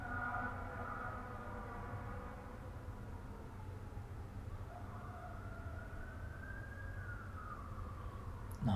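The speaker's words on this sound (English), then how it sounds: "Non-stop sirens all day long." A distant siren wails and rises and falls steadily for several seconds over a low rumbling background of traffic, faint and continuous, with no one speaking.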